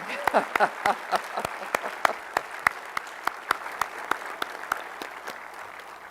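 Sparse, slow hand claps ring out from a few people at a space center event, evenly spaced and fading in strength, with a voice speaking briefly at the start.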